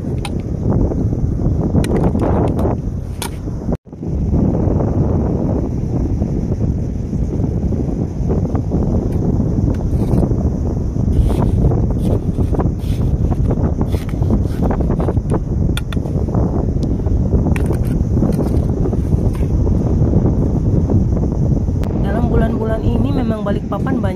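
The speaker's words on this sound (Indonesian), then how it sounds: "Memang bulan-bulan ini kencang betul ya angin." Strong wind buffets the microphone on a shell-strewn recreational beach at Balikpapan, a loud continuous roar with gusty surges that runs almost without a break for the full length, dropping out only once for a moment.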